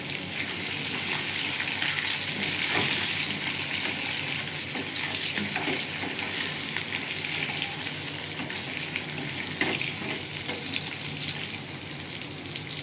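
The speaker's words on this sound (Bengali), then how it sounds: "পেঁয়াজের সঙ্গে আমি আলুটা ভেজে নেবো।" Potatoes frying with onions in a pan make a continuous, fairly loud sizzle that stays even throughout, with no talking and only a few faint stirring knocks.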